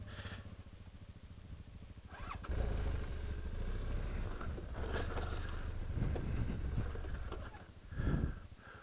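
A motorcycle with its ABS switched off creeps down a steep slope on the clutch: a steady low engine rumble with rough, uneven texture that swells into a louder burst near the end.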